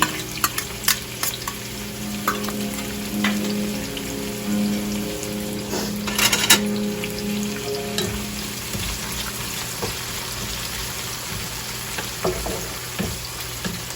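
Onion and fresh garlic frying in a pan for chicken curry give off a loud, continuous sizzle with scattered crackles and a few sharp clatters of stirring, with no voices.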